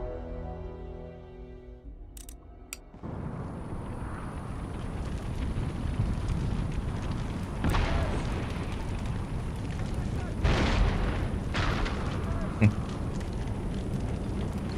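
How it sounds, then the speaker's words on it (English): Artillery firing out from inside a town's gates during a Total War Empire battle: a dense, rumbling roar of cannon and battle noise with several heavier booming shots, preceded by a brief voice. "His goofy artillery's inside firing out."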